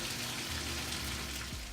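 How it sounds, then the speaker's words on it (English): Water pours steadily into a basin that held fried chicken for a Jamaican curry chicken dish, a brief continuous rushing splash heard close up. "you're gonna get some water and pour inside the basin where the chicken was before"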